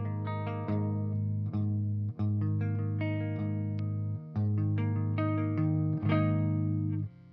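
Clean electric guitar slowly arpeggiating chords, each note ringing out in a steady, sustained pattern, alone and close with no talking.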